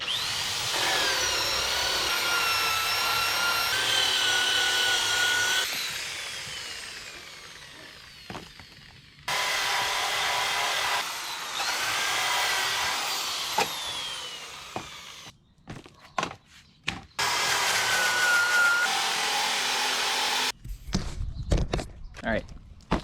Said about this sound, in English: I'm gonna wire wheel it off and give it the old rattle can treatment